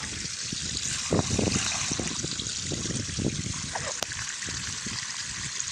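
Water trickles steadily from an artesian well borehole, a continuous close wash of running flow with small gurgles and splashes, and a few soft knocks partway through.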